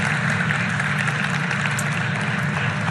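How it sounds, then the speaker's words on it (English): A crowd claps at a live government announcement in Sault Ste. Marie with Doug Ford and Mélanie Joly, a dense, continuous wash of applause holding at an even level, with no pauses. "And that's where we all clap, guys."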